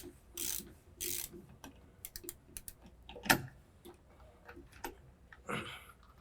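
A 15mm socket ratchet working on the cover of a Grohe Grohtherm two-handle thermostatic shower valve, giving quiet, close clicking pawl ticks in short irregular bursts, with a few louder knocks and scrapes between them.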